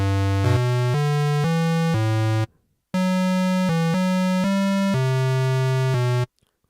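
Initialized 8-bit synth patch from the Minibit plugin: a bright, buzzy square-wave tone playing a short run of stepped notes, a brief silent gap, then another phrase, loud and alone.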